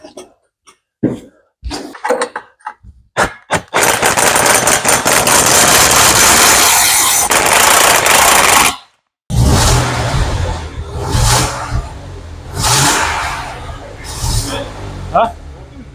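A BMW M50B30 stroker car engine starts and runs loud and rough for several seconds, cuts out briefly, then idles unevenly and lumpy with intermittent revs rising and falling.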